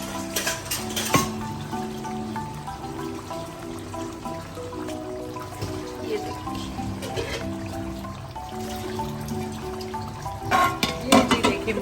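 Biryani marinade mixture cooking over low heat in hot oil in a pot, with metal pot and utensil clatter, stirring and a soft trickling sizzle throughout, and sharper clanks near the start and end.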